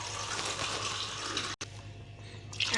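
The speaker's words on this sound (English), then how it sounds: "Now we'll add some water." Water poured from a cup into a pan while making sweetcorn soup, a steady close splashing gush for about one and a half seconds, a brief break, then more pouring.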